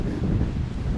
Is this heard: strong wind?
yes